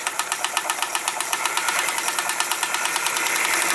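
An Elna Supermatic sewing machine runs with its cam disengaged, giving a fast, even mechanical clatter of repeated ticks close up, with no voices.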